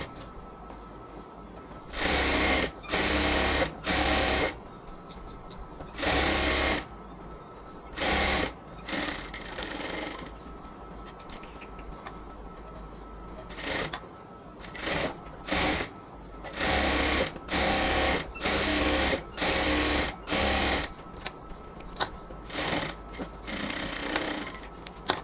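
A sewing machine stitches a cotton palazzo in repeated bursts of rapid mechanical chatter. The bursts vary in length and are separated by short pauses, close and clear, with no talk.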